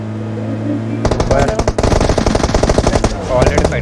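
Automatic gunfire in a mobile battle-royale style video game rattles in loud rapid bursts after a quiet first second, continuing with short gaps, while someone talks over it.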